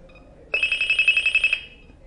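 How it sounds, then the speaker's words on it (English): A Greenlee TM700 test telephone sounds a special ringtone in the Smart Intercom mode: one clear electronic burst of rapid, evenly pulsed warbling tones lasting about a second, close and loud, with no talk. "We can send a special ringtone"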